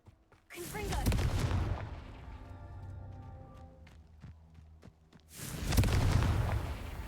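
Confringo fire spell cast in the Hogwarts Legacy video game, a loud booming blast with a crackling burst that trails off into a rumbling tail, then a second heavy blast near the end.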